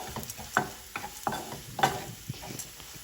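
Chana dal is sautéed in hot oil, with a faint background sizzle under repeated close spoon scrapes and knocks against the pan in an uneven rhythm.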